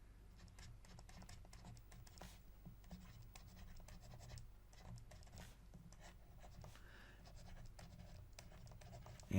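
Steady scratchy writing strokes on a board in a lesson on multiplying and dividing integers, quiet rubbing and tapping marks in an irregular rhythm with no talking.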